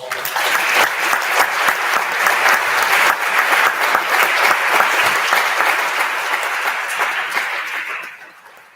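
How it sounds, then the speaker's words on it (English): Loud, dense applause from a senate session audience for its members, sustained hand clapping that carries evenly for several seconds before tapering off at the end. "Again, let's give them all a round of applause."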